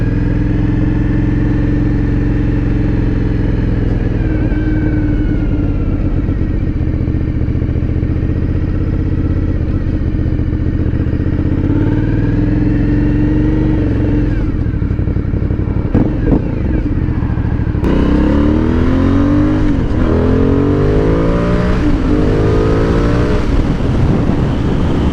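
A 2020 Aprilia Dorsoduro 900 motorcycle engine runs steadily on an open road, then revs hard and accelerates through several gear changes near the end. The engine note is loud and close throughout, with no talking.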